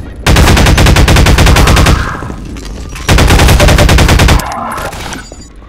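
Pulse rifle from Half-Life 2 firing in two long rapid automatic bursts, loud and close, each cutting off into a fading tail.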